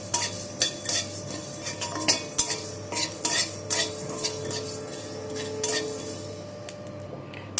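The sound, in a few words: frying and stirring whole garam masala spices in a pan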